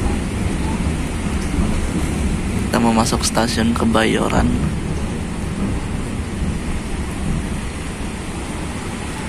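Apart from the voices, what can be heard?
heavy rain and thunder heard from a moving train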